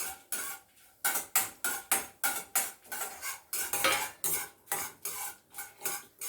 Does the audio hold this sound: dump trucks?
no